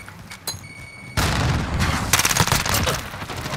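Loud gunfire and a heavy explosive boom ring out in Call of Duty Modern Warfare (2019), with a frag grenade blast and rapid shots crackling close in a Hardpoint match.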